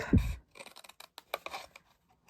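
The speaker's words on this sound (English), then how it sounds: "So we've got that narrow strip at the top and this narrow one at the side. I'm going to cut straight up" Scissors snip through a narrow paper strip while making a small treat box: a heavy first cut, then a run of quick, crisp snips close by, with no talking.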